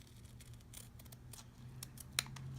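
Scissors snip through Christmas stamp ribbon for a paper-craft journal, with quiet close cutting sounds and one crisp final snip near the end in a quiet room.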